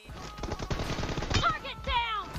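Gunfire in the Free Fire mobile battle royale game, a rapid burst of shots landing a headshot on a Scout character, dense and punchy throughout with game effects and a voice chiming in near the end.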